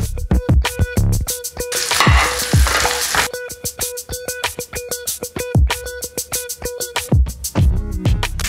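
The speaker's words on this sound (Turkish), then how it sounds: "İlk iş olarak soğanı soteleyelim." Onion sautéing in about two tablespoons of olive oil for a lemon-butter salmon sauce, a steady loud sizzle broken by repeated sharp scraping strokes of a utensil across the pan, with one burst of intense hissing midway.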